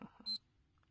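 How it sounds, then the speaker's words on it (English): A single bright electronic beep rings out alone on a livestream, a short steady tone of about a tenth of a second, preceded by faint soft sounds and followed by near silence. "Let's get that magical blue beep"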